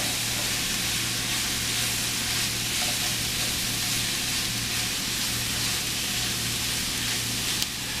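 Mushrooms sizzling in a pan while cooking beef stroganoff, a steady, even hiss that runs throughout, with no talking and a faint low hum beneath.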